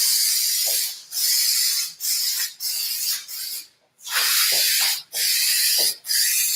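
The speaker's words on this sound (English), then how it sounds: "All right, I'm gonna spray that way." An aerosol spray can hisses loudly onto the wooden support for a car headliner, in a series of long bursts separated by brief pauses.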